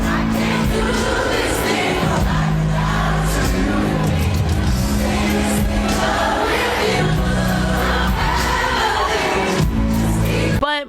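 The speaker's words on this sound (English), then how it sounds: "The crowd also in this clip just sounds so good" A large concert crowd sings a song together, a dense, loud wash of many voices blended over the music and filling the whole stretch.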